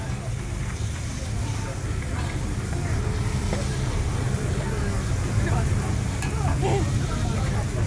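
Corn frying and sizzling in a pan at a holiday stall in Cameron Highlands, Pahang, a steady dense sizzle with occasional stirring scrapes, with people chatting over it throughout.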